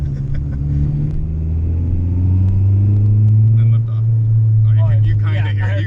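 A turbocharged Acura Integra GSR engine pulls under throttle from inside the car, a deep steady drone rising and swelling, with people talking over it toward the end.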